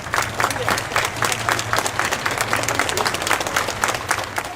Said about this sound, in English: The applause continued as the cortege made its way through Edinburgh's Old Town and down the Royal Mile.